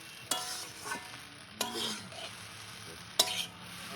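Chowmein noodles being stir-fried in a kadai, cooked shop-style: a continuous sizzle is broken by three sharp scraping clanks of a metal spatula against the pan, spaced about 1.5 seconds apart. No one speaks.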